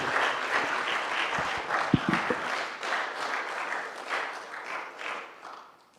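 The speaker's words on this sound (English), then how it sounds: "Can we give a round of applause for Pastor Jonathan, y'all?" Audience applause rises in a church-hall gathering on race relations, a dense wash of many hands clapping together that carries steadily before tapering off toward the end, with a few sharper claps standing out near the start.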